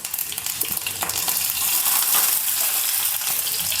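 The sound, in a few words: mustard seeds and fenugreek frying in oil in a pan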